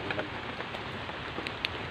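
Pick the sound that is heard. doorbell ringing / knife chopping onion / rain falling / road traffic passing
rain falling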